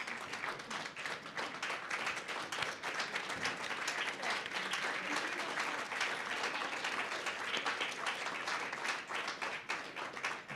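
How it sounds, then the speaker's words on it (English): Sustained applause from an audience at a South African Chefs Association annual general meeting, dense steady clapping filling the room for about ten seconds with no voices on top. "stand up and give them a round of applause"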